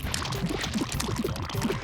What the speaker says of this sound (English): Now we can pour this over our ice cream.